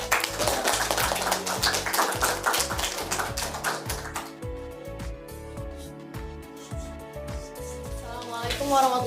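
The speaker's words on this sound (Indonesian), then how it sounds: "beri tepuk tangan dulu untuk kelompok 1" An audience in a classroom session applauds group 1, dense clapping at first that thins into scattered, rhythmic claps, with voices murmuring underneath.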